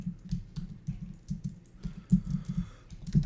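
Notes tapped out on a computer keyboard in a steady run of soft, quick keystrokes with brief pauses, close and fairly quiet, with no voices.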